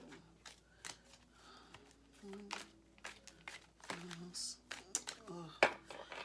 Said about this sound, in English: One last shuffle, just because it feels like it'll be right